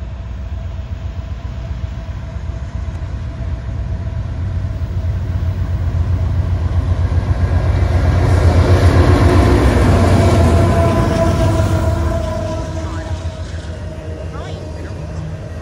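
An eastbound freight train rolls past at Phillipsburg, New Jersey, a steady low rumble of rail cars that swells to its loudest midway through and then eases off, with a person talking over it.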